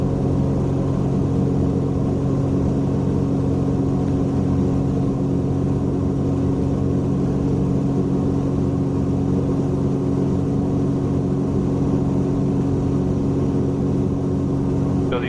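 Small airplane engine droning steadily in level cruise flight, a loud continuous cabin hum with no change in pitch throughout.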